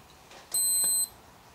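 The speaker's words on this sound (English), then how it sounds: "I heard a beep." A single short, high-pitched electronic beep sounds once, lasting about half a second against quiet background.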